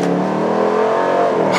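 A Dodge Durango SRT 392 V8 pulls hard at three-quarter throttle, a loud, steady, rising engine roar heard from inside the SUV without any talk.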